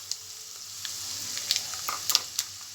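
Peanuts, chana dal, urad dal, mustard and cumin seeds frying in hot oil for amla rice, a steady close sizzle with scattered small pops and crackles, no voices.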